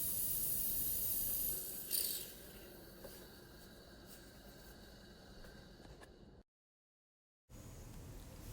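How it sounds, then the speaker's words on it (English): The steam wand of a Breville Barista Express espresso machine hisses steadily as it is flushed onto a tea towel, a loud, broad rush of steam that keeps going, cuts out briefly, then starts again. "It's also important to put the steam back on to flush out any milk that could be in the line, and I just let it run over the tea towel."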